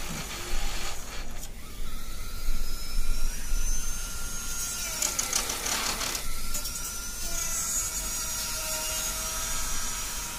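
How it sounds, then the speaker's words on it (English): A cutting wheel grinds through the plastic of a 3D printer heated bed, giving a steady loud whine that rises and falls as it bites into the material, with no one speaking. "You can just use like some cutting wheel."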